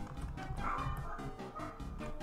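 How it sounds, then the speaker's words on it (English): Dogs bark in the background, a few muffled yips and woofs at moderate distance over a low steady hum. "My dogs are just casually barking in the background."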